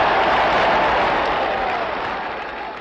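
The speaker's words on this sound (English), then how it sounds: "When he spoke, the crowd cheered and clapped." A large crowd applauds and cheers after Dr. King's speech, a loud dense wash of clapping that begins at full strength and gradually tapers off over a few seconds.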